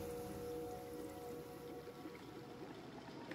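Rushing, watery rumble of water tanks heard through a seashell held to the ear in the video game Jusant, a steady broadband wash with faint tonal hums running unbroken throughout.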